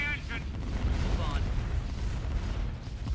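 Heavy weapons fire rumbles through a Star Wars: Empire at War space battle over Sullust, with sustained booming blasts and laser bursts under voices talking.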